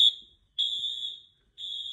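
An office fire alarm sounds in loud, piercing tone bursts, three long pulses separated by short silences, with no talking.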